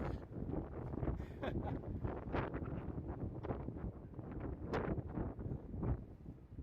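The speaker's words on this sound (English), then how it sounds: "gotta be able to hear the wind now that I took the external mic off" Wind buffets a bare camera microphone during a walk on the Las Vegas Strip, a continuous loud rumbling roar with gusting surges that covers everything else.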